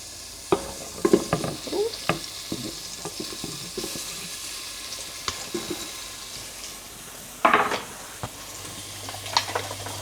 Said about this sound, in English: We're gonna saute this for 3 to 5 minutes until our onions are brown and soft.